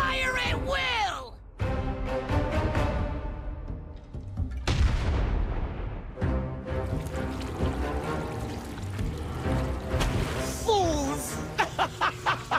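Heavy guns firing in a World of Warcraft: Battle for Azeroth Horde cutscene, booming blasts and crashing impacts mixed with shouted character voices and orchestral swells, loud and busy throughout.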